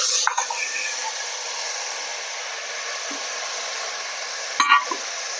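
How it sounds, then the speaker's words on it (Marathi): Black-eyed peas and potatoes tipped into hot oil and sautéed masala in a pan for chavli batata bhaji, giving a steady broad sizzle with a brief louder burst near the end. "आता यामध्येच घालायचं आहे आपल्याला चवळी आणि बटाटा."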